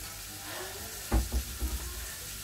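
Ingredients for a homemade bolognaise sauce stirred in a pan, a low sizzle underneath and a few soft scraping knocks clustered in the second half, close and fairly quiet.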